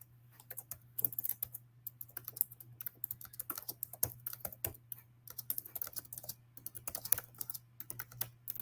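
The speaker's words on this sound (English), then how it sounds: "just typing it up" Steady typing on a computer keyboard, with irregular rapid clusters of key clicks running throughout alongside a low constant hum, no voices.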